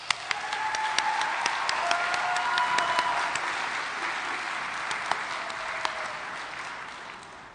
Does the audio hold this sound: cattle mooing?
no